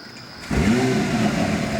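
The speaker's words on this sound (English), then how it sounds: "we're revving out" An NSX sports car engine starts up after a quiet moment and settles into a steady, loud rev close by, holding a strong mid-pitched drone for over a second.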